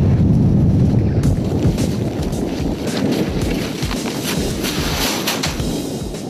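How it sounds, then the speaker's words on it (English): Strong wind gusting at around 47 to 56 across the Greenland ice sheet roars loudly and continuously into the microphone, with rattling flaps and brief knocks over the rush. "It's about 47, gusting to about 56. It's pretty strong winds."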